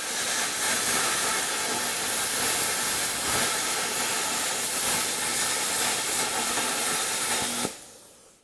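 Steady, loud hissing rush of a YesWelder FIRSTESS MP200 plasma cutter at 40 amps slicing through steel, continuous for several seconds before cutting off abruptly near the end.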